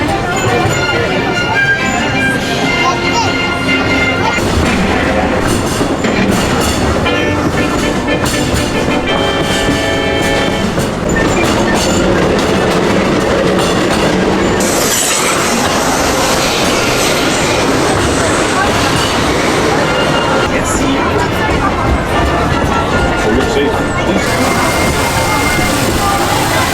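An amusement park train at Disneyland Paris rumbles and clatters along continuously with wheel noise and squeals, while an announcement voice speaks over it.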